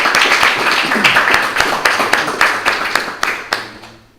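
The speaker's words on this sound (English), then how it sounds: "Give our brother ministers another round of applause, please." Audience applause at a religious gathering, honoring visiting ministers. Brisk close clapping fades into a few scattered, distinct claps before dying away at the end.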